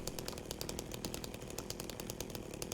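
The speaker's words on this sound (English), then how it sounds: "I think he was just putting away his chainsaw." A chainsaw in the Silent Hill 2 Remake video game rattles steadily and faintly in the distance, a continuous buzzing drone with rapid clattering pulses.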